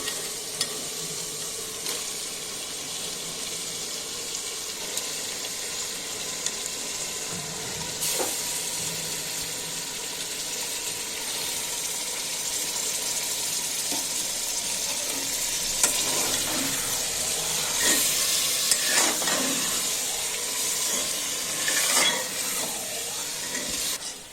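Beef dropped into spiced oil for a spicy beef curry, sizzling loudly and continuously up close while a utensil stirs and scrapes the pan, the frying swelling and growing more active toward the end.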